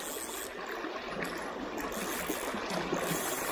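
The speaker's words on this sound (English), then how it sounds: "Really fast water." A fast-flowing river after floods rushes steadily in a continuous broadband roar, close and loud, with no voices over it.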